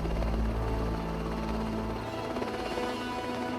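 A helicopter's engine and rotor drone steadily at close range, a constant loud whine and thrum with no voices.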